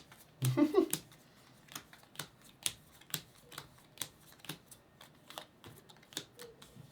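A deck of cards for the Stupor Mundi board game being shuffled: a brief rustling burst, then a steady series of crisp, close snapping clicks as cards riffle and settle, with a short voice at the start.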